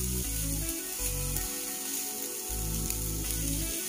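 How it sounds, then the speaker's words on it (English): Meatballs fry in a pan over low heat, giving a soft, steady sizzle that runs through the whole stretch with background music playing underneath. "so it's cooking on low heat, so that it does not speed up the cooking process"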